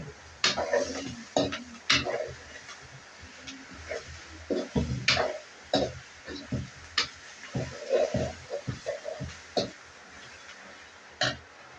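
Onions sautéing in a pan with crushed ginger and garlic for chicken devilled, heard as a steady low sizzle broken by repeated close clinks and scrapes of a spoon stirring against the pan.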